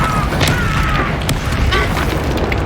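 Confringo fire spell blasts in Hogwarts Legacy, a series of short punchy booms and crackling bursts over a dense loud backdrop of combat noise.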